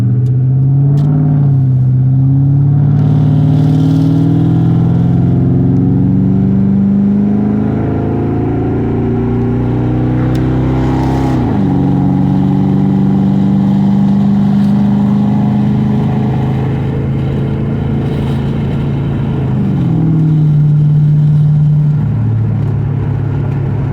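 A car accelerating on a wet road, its engine note rising through several gears with steady loud rumble and tire hiss, shifting pitch around the midpoint and again near the end, close and continuous, no voices.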